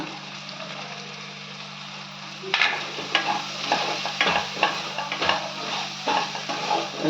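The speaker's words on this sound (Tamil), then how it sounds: "இப்போ தக்காளி போட்டுக்கோங்க தக்காளி போட்டு கொஞ்சம் வதங்கட்டும்" Tomatoes and spices sauté steadily in a pan, with occasional louder bursts of stirring and scraping from about the midpoint on.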